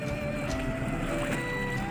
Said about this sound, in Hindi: ये वाली है स्कूटर बोट, और मैं इसमें बैठूंगी